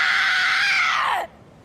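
Thorfinn from the Vinland Saga anime lets out a single sustained, high, strained scream in the original Japanese-language version, loud and close, holding for over a second before breaking off into silence.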